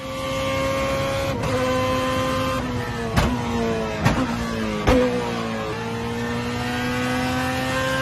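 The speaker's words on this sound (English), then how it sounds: "Let's start off this episode right with some E46 M3 GTR race car action." Onboard engine of a BMW E46 M3 GTR race car with a P60 B40 engine: a loud, continuous high-pitched howl that climbs through the revs, broken by three or four sharp gearshift cracks with brief dips in pitch.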